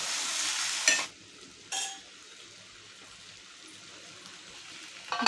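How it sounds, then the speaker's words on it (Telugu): Cut potatoes for a crispy potato fry sizzle loudly in hot oil for about a second, flare again with a brief stirring burst, then settle into a faint, low pan murmur before rising slightly at the end. "ఇప్పుడు మనం కట్ చేసి పెట్టుకున్న ఆలు వేసేసుకుంటున్నామండి"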